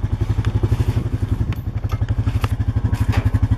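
A four-wheeler ATV engine runs close by, a loud, rapid, pulsing putter with a clear regular thump and some rattling clatter, steady throughout without voices.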